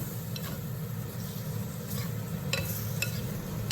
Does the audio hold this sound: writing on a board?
no